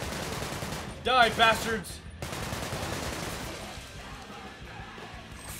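Gunfire in Sunset Overdrive, a loud stream of shots and crashes from a favoured weapon, with someone shouting briefly over the firing before it trails into quieter game noise.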